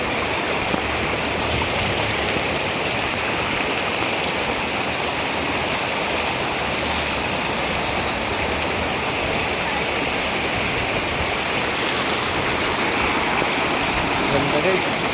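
A clear river in Sampaloc, Quezon flows with a steady, loud rushing wash that fills the scene evenly and continuously, with no voices over it.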